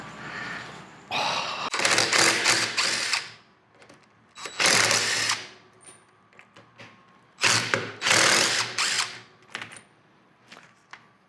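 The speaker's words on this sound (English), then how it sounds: "This is a hog ring anvil impact gun, 3/8." A 3/8-inch hog ring anvil impact gun fires in loud bursts of rapid hammering, separated by short pauses, with brief mechanical clicks in between, close and without talk.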